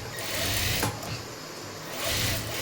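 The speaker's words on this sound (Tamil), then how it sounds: "இப்போ நம்ம சுற்றி தையல் போட்டு எடுத்துக்கலாம். வாங்க தையல் போடலாம்." A sewing machine runs a steady, close, buzzing stitch along a baby frock sewn with matching thread, with a short dip in speed midway before it picks back up.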